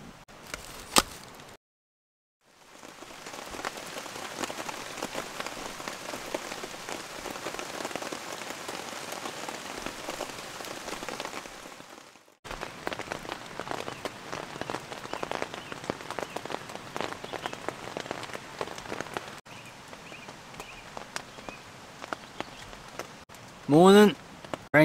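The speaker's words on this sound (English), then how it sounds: "Rain's died off a bit now." Rain falls on a tent during a solo overnight camp, a dense, close pattering that runs almost continuously with one brief pause near the start, a change in texture partway through and a few louder rustles at the end.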